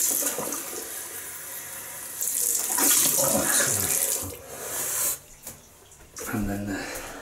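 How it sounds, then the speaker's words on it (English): Cold tap water runs into a sink for a rinse during a shave, a hissing splashing stream that swells and drops as hands move through it, briefly cutting out before resuming. "Cold water rinse."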